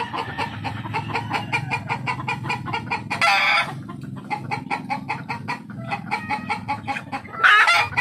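Chickens cluck close by in a rapid, continuous chatter, with a couple of louder squawks breaking through the steady clucking.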